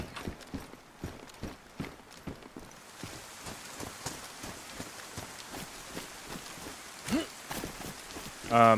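Steady rain hisses across the ground in the video game DayZ, filling in after the first few seconds beneath a regular rhythm of close footsteps, with a short bright electronic blip near the end.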